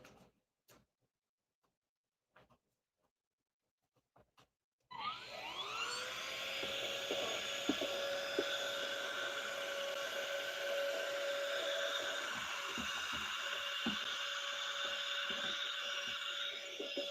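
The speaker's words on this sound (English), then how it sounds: "I got to turn the vacuum on, so you're going to hear a little bit of vacuum action first" After a few faint ticks and clicks, a vacuum cleaner in a sawmill switches on and settles into a loud, steady whine, running continuously and close by.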